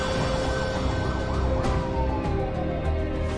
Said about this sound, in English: From our siren and our talking